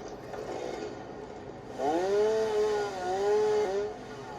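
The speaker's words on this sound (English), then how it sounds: "somewhere in here I have a chainsaw" A chainsaw in the video game Satisfactory revs up, giving a buzzing whine that rises and wavers in pitch for about two seconds after a quieter stretch of low rumble.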